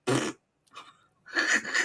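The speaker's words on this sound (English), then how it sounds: "So, elbow cough." A sharp, muffled cough into an elbow, then a pause and a rougher, longer burst of coughing or throat sound, close and fairly loud, with no talking.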